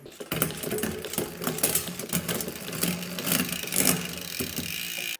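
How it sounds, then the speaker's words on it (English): An SRAM Eagle AXS electronic rear derailleur shifting into second gear on a bike, a close whirring motor buzz with rapid ratcheting clicks running for several seconds, with no talking. "Now we're shifting into the second gear."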